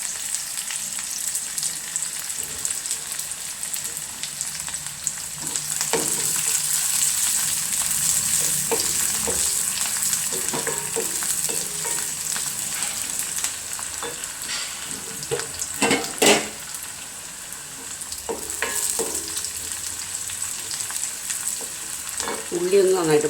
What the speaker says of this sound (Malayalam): ഉള്ളി ഒന്ന് നന്നായിട്ട് മൂക്കട്ടെ കേട്ടോ